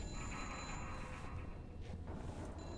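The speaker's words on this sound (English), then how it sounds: "A ringing phone in a Nazi shadow." A telephone rings in the Second World War shooter game Sniper Elite V2, a faint, steady electric bell trill sounding under a low ambient hum, with no speech.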